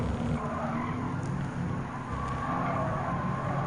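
Race car in Gran Turismo 7 running at about 162 mph toward a turn, a steady loud engine drone with tire skid and squeal continuing throughout.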